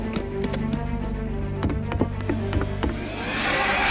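A dragon in an animated show gives a loud, whinnying roar-like cry with sharp clattering hits. The cry is followed by a rising rush of noise, and no speech is heard.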